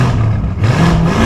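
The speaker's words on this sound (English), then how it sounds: "So, Urus Esteso with the Novitec exhaust system" Lamborghini Urus Esteso fitted with a Novitec exhaust system, revving loudly and close, a deep throaty engine roar rising and falling in pitch over a second.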